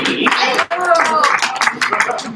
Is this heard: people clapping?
yes